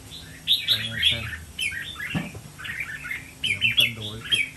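A caged pet songbird chirps close up in bright, repeated bursts of short tweets and trills, with a few brief squawky notes and quiet rustling between them.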